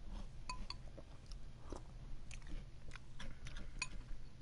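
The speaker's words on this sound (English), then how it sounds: "I gotta eat my cereal, bro." Someone eats cereal up close, with soft crunchy chewing and occasional light clinks of a spoon against a bowl, quiet and unaccompanied by talk.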